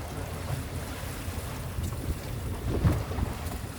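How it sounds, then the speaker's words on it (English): A fishing boat moves over Chesapeake Bay water, giving a steady wash of wind buffeting and engine rumble with splashing water throughout, close and fairly loud, with no talk. "So right now we're pointing the boat up"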